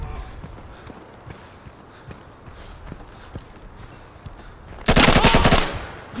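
Automatic gunfire in the shooter game Insurgency, with scattered sharp shots and footsteps building to a loud, dense burst of rapid fire near the end, heard close.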